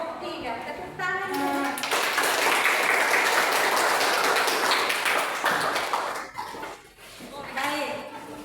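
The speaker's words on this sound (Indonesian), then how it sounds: "Tepuk tangan." Students in a classroom applaud a group after its presentation, a dense burst of clapping filling most of the clip between brief children's voices at the start and end.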